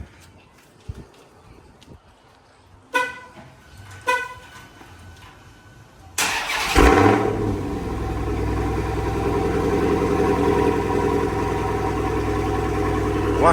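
A widebody Dodge Challenger Hellcat with an upgraded exhaust: two short horn toots, then the engine fires up on a warm start with a sharp loud bark and settles into a deep rumbling idle.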